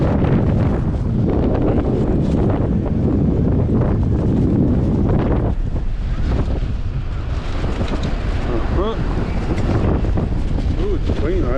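Strong gusty wind buffets the microphone on a beach by Santa Monica Pier, a loud, constant low roar with rushing surges throughout and some faint vocal sounds near the end.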